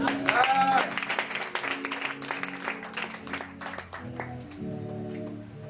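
A church congregation claps and cheers in acclamation of the Lord, with dense applause that is loud at first and then thins out as a voice speaks over it.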